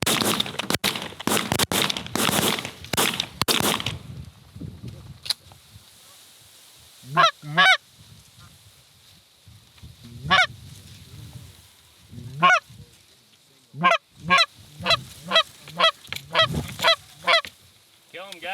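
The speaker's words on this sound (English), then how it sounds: "More geese to the left." Geese flying over a North Dakota waterfowl hunt, a cluster of loud gunshots at the start followed by repeated nasal honks, some near and some farther off, scattered across the stretch.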